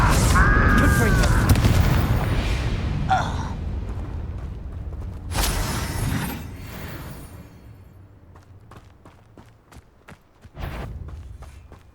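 Fire spell blasts and booms ring out in a Hogwarts Legacy duel, loud bursts near the start, around five to six seconds and again near eleven seconds, with spoken voices between them.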